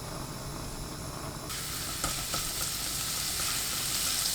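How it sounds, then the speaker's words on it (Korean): Minced garlic sizzles in cooking oil in a hot pan over high heat, a steady close frying hiss that grows louder and denser partway through, with faint stirring clicks. "팬에 식용유 1큰술, 다진 마늘 반큰술 넣고 센 불로 볶습니다"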